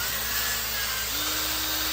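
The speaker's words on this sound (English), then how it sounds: "I'm only on a drill and it's going kind of slow." A steady, whirring drill hum with a faint hiss of 320-grit sandpaper on a metal wastegate shaft, its pitch stepping up slightly partway through and running continuously.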